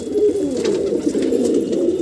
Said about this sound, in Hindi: एकदम गोल मुंडी का कबूतर है ये।